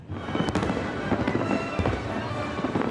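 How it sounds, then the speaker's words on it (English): A fireworks display on the National Mall sends out loud, repeated bangs and crackles in an irregular rhythm, layered over a dense, continuous roar of bursts and distant popping. "A fireworks display on the National Mall with a message for voters."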